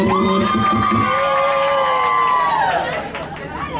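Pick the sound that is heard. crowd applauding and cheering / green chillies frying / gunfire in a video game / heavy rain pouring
crowd applauding and cheering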